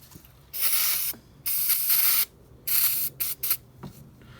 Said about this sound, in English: gonna spray off these bolts.